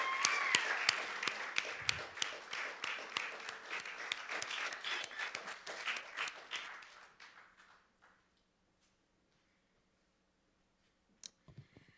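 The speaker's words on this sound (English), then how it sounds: "Keep on clapping for Cheyenne Adams" Audience applause at a live poetry and fiction reading event, a dense burst of clapping that thins out and fades to near silence, followed by a few faint sounds at the end.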